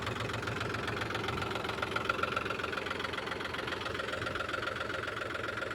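A tractor engine idles nearby on a farm, a steady low, rhythmic knocking chug that holds at an even level throughout.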